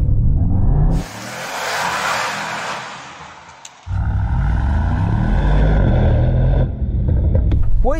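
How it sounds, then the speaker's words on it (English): Mercedes-AMG GT 63 e-Performance with a hybrid V8 accelerating hard, a loud roaring engine note with rising harmonics and a brief lull as it shifts before surging again, close up. "See if you can hear it when I accelerate. Do you notice that? Electric V8."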